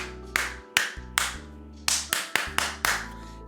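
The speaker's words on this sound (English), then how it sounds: "Do a little clap test." Sharp hand claps for audio-sync testing, recorded on a Logitech C920 webcam with an Elgato Wave mic, about ten claps in an uneven rhythm, close and loud with a short room ring after each.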